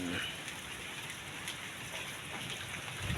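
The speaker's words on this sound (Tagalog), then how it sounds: "yun mga guys biglang umulan ngayon dito sa Sorsogon Bulan Terminal" Sudden steady rain pours down at Bulan bus terminal in Sorsogon on a wet morning, a dense even hiss of rain on surfaces that stays loud and continuous with no voices.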